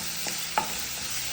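Curry leaves and green chillies sizzling in tempering oil for amla coconut rice, a soft steady hiss with a couple of light stirring clinks.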